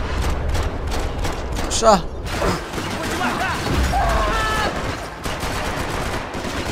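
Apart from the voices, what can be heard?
gunfire in the video game Max Payne 3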